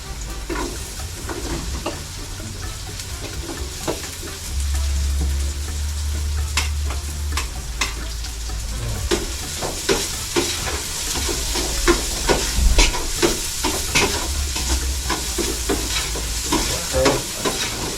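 Garlic sizzles and crackles as it is stir-fried in a hot pan during a birthday cooking session, with a steady frying hiss, irregular sharp pops, and stirring scrapes that build louder toward the end.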